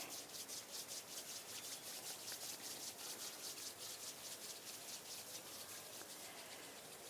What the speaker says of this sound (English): bring the palms of your hands together at chest level and just rub them gently against each other.